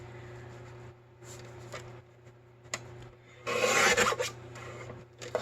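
Fabric being cut away outside a score line while making a shirt collar pocket, short close scraping and snipping sounds between quiet pauses, with one longer, louder burst of cutting near the end.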